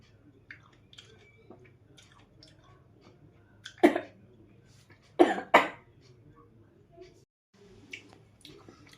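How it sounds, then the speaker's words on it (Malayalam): After a bite of grapes coated in chili powder, a person lets out a few sharp coughs, one isolated then a close cluster of two, amid quiet chewing and small mouth sounds. "അതാണ് എനിക്ക് ചുമ വന്നത്"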